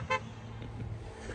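A BMW's single short horn toot sounds briefly at a distance over a low rumble of road noise.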